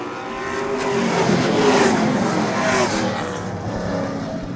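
Pro stock race cars roaring around Seekonk Speedway, a dense, sustained engine drone that swells as the pack passes close and then eases slightly, with no voices over it.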